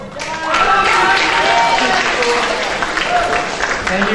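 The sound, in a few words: audience applause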